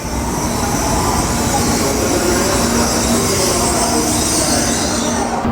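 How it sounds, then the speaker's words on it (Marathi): A Japanese bullet train of fourteen to fifteen cars rumbles steadily close by as it arrives at a station, with a constant heavy roar and a faint metallic whine, no voices. "चौदा ते पंधरा डब्यांची ट्रेन असते ही समोरच्या साईडने पण एक आलेली आहे"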